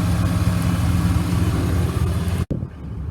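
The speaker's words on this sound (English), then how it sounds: "now that we got the engine cranked" A 2020 RAM pickup's 6.7L Cummins diesel idling just after cranking, a steady low rumbling drone close by, with a brief dropout near the end before it carries on.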